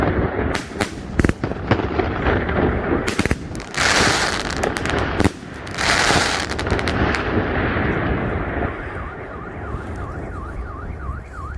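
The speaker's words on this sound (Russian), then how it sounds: "Вот так вот, салют, мажор." A large-calibre fireworks battery salute fires a rapid volley of sharp bangs and crackling bursts outdoors at a birthday celebration, then tails off as a car alarm wails in the distance.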